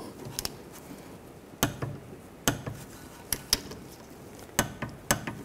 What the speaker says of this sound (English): We'll torque these bolts to 25 foot-pounds